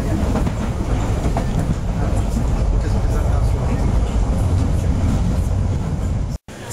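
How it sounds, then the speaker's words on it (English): Train travelling at speed, a steady loud rumble and rattle of rail cars running along the track, continuous and close throughout. "appears we're racing another train"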